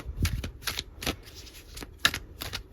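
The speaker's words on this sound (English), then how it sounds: "I'm going to pull you some tarot cards today" Tarot cards being shuffled by hand in quick, close riffling bursts that start and stop with short pauses, crisp papery flutters and taps, no voice.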